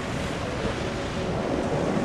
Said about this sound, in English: the water's kind of splashing everywhere